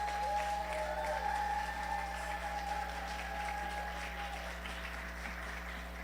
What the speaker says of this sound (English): Let's give her a round of applause to Sister Hastings St. Rose